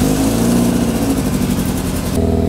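Engine filled with Evans coolant, running steadily after the choke is opened, a loud, close, continuous low rumble with a fast even pulse that shifts slightly in pitch near the end, no talking.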